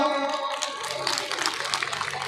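An audience listening to a monk's speech claps, a dense patter of many hands that fills the room and keeps going steadily throughout. Tonal voices or a hum sit under it at the start.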